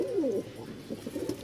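Pigeons in a loft of fancy breeds cooing at close range, two or three soft, throaty rolling coos in quick succession, alone without talking.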